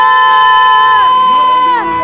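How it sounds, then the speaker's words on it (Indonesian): A church congregation shouts hallelujah during a worship service, a loud crowd cheer rising over sustained, ringing music for about two seconds. "Sorakan haleluya"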